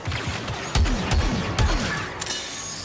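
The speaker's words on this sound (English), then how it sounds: "Who the hell is shooting at me?" Blaster gunfire in the video game Star Wars Battlefront 2, several sharp spaced shots with thudding impacts and crashing debris amid battle noise, fairly close and loud.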